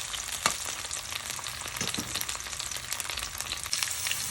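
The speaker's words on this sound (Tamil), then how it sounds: "இப்போ உருளைக்கிழங்கு பொட்டாட்டோவை இப்படி ஃப்ரை பண்ணி எடுத்துக்கொள்ளுவோம்" Steady oil sizzle and crackle from potatoes frying in a pan, with a few louder pops and stirring scrapes throughout, close and moderately loud.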